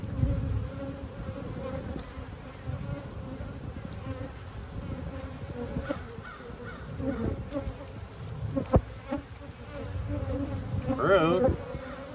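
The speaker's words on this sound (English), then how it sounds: "Here we have a nice solidly packed hive." Honey bees from a solidly packed hive hum in a dense, steady buzz close to the microphone, with individual bees droning past now and then, one passing especially loudly near the end.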